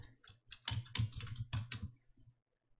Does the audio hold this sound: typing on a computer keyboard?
yes